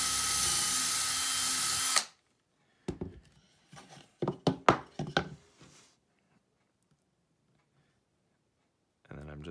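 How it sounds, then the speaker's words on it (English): Small drill working into a polymer clay miniature bust armature, starting after a loud steady whir cuts off, then a series of short uneven grinding bursts, with a brief burst again at the end. "So I'm just going to drill one now."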